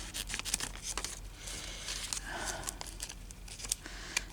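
Scissors cutting journal paper during a craft session, heard as close, crisp snips and rustling paper crinkles in an uneven rhythm, with no talking.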